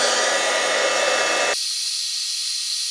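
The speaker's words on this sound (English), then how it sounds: "you move the heat gun onto the next place" A heat gun blows loudly and steadily to melt embossing powder on a card, its whooshing hiss cutting to a thinner, higher airflow midway.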